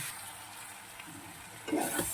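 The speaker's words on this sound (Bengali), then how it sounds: "একটু কষিয়ে নেব" Khichdi ingredients sauté in a pan, a faint sizzle and stirring that swells into a louder, closer burst of frying near the end, with no talking.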